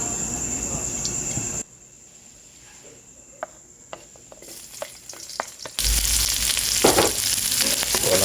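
Beef innards and spices hit a hot pan and sizzle, starting strong, dropping quieter with a few clinks of stirring, then roaring back into loud steady frying.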